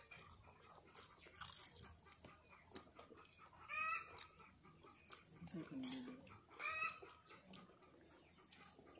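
Chickens cluck and squawk intermittently around a farmyard, with a few sharper calls standing out over faint background voices and rustling.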